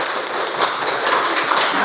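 A classroom group claps in a dense, steady wash of many hands, loud and close, continuing evenly for the whole stretch without talk.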